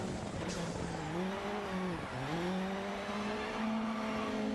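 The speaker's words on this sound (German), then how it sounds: "driften kann man diese RX Supercars übrigens auch richtig" An RX Supercar drifts in Dirt Rally 2.0, its engine note sweeping down and back up as the revs change, under a steady broad tire roar, loud and continuous.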